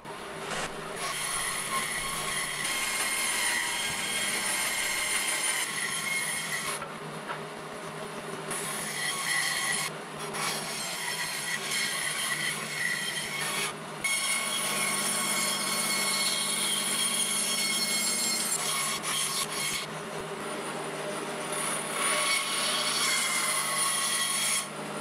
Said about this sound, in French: avant de finir à la scie à ruban